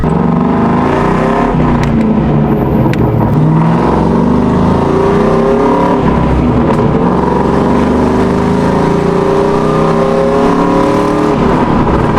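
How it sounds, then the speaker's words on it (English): A Ford Mustang GT exhaust roars loud and close, revving in a sustained, rumbling drone with rising and falling pitch. "She had an off-road xpipe, and she had SLP loudmouth 2s, which are very, very similar sounding to the Borla Attack."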